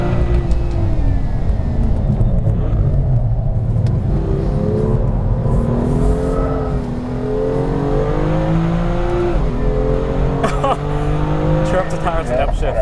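A BMW M2 accelerates hard on the Laguna Seca race track, its engine note climbing through loud, continuous upshifts, while a person talks over it.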